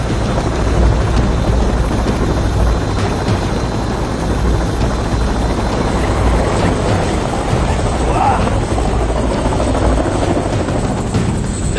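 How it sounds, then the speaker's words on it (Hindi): A helicopter hovers low over the desert, its rotor roar loud, broad and constant throughout, with no pauses or talk over it. "अब ड्राफ्ट की वजह से हेलीकॉप्टर एक जगह रुक नहीं पा रहा है।"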